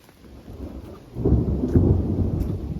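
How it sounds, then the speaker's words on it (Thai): Loud thunder rolls through a bamboo forest, a faint rumble swelling after about a second into a heavy, sustained roar with rain-like hiss, no voices. "โอ้โห ทุกคน ฟ้าร้องดังมากเลยนะครับ"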